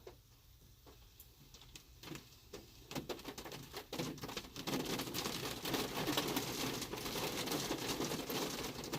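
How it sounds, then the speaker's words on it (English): Rain falling non-stop outdoors beside a 2009 Honda Accord: scattered ticking drops at first, swelling into a steady, dense hiss of downpour that carries on to the end. "I'm sure you guys can hear that rain just coming down non-stop out here."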